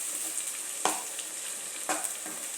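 A paste of onion and garlic sizzles as it is sautéed in a pan, a steady quiet frying hiss broken by two distinct spatula scrapes.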